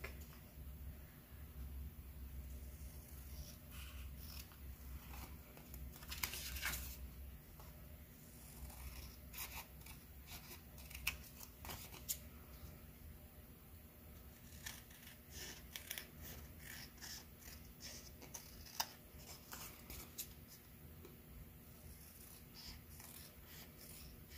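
Scissors trimming paper for a junk journal tag, a series of faint, crisp snips and rustles at close range, irregular across a quiet background with no talk.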